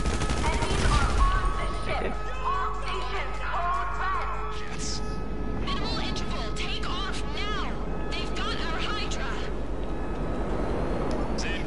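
Explosions and gunfire from GTA Online, with missiles blowing up during a heist challenge, burst out loudly at the start, then come as scattered blasts and rattling fire under ongoing game noise.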